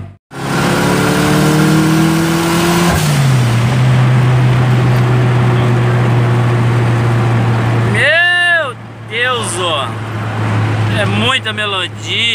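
A tuned car engine fitted with a Mercedes fuel pump and a FuelTech setup idles with a steady drone, then is blipped in several sharp, rising revs near the end.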